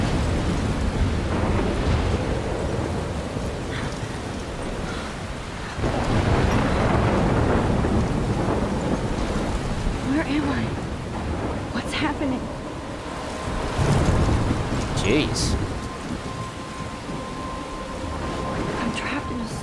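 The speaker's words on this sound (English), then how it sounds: "It's like a really intense movie trailer drum beat in the form of thunder." Thunder rumbles in heavy rolling bursts over continuous rain during a storm in a forest near a lighthouse in the video game Life is Strange, with a person briefly exclaiming.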